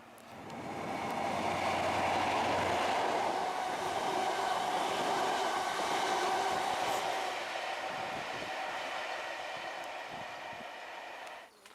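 A train rumbles past with a steady roar and faint rhythmic clatter, swelling in and fading away over several seconds, with no voices.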